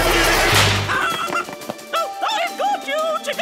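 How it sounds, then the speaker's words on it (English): Cartoon chicken in a children's rescue show giving a run of short, squawky honking clucks, loud and close, following a burst of noise at the start. "Oh, my brave little chicken!"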